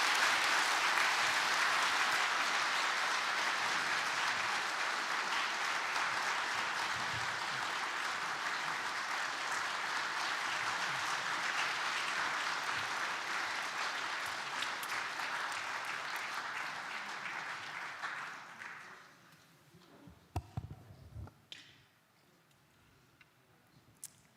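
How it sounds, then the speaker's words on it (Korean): A large audience at a guest lecture in Korea applauds steadily for a long stretch to welcome the professor, then the clapping fades out, leaving a few scattered claps and faint room noise. "우리 큰 박수로 우리 김영석 교수님을 모시도록 하겠습니다."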